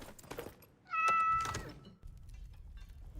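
A cat in a heavily modded Minecraft game meows when petted, one clear, loud, drawn-out tonal meow standing out over quieter game sounds.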